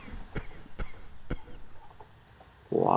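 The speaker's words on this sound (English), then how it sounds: "Why am I mysteriously coughing?" In an Ildefonse game, a person gives three short dry coughs spaced a few tenths of a second apart, close and fairly quiet, followed by a sudden burst of louder noise.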